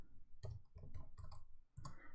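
Computer keyboard being typed on, a few separate bursts of clicky keystrokes spaced over about two seconds, close and fairly quiet, with no voices.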